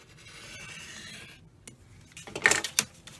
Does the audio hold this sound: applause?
no